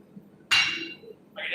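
A small 2.5-pound short-handled hammer strikes a railroad spike during forging, giving one sharp metallic clink with a bright ringing tail, followed by a second lighter strike a moment later.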